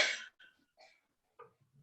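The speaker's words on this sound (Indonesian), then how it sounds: "sebentar ya Bu, saya banyak batuknya sebentar." Several short coughs from a woman during a spoken parenting talk, a loud first burst followed by smaller hacks and throat sounds spread across the moment, close to the microphone with no talk over them.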